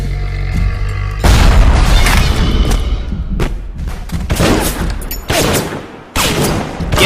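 A rocket turret fires in the video game BioShock, setting off loud booming explosions and rapid gunfire. Dense blasts sound repeatedly, with sudden strong hits near the start and again near the end.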